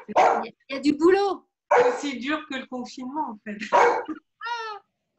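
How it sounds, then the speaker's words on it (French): A hungry pet dog barks and whines in a home during a Zoom yoga session, its short yelps mixed in with a woman's close, steady talk. "Oui, c'est mon chien, il a faim."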